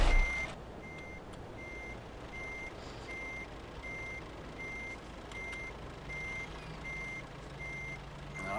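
Reversing alarm of a truck in Euro Truck Simulator 2, a steady series of evenly spaced high beeps repeating over a low engine rumble, with no talk.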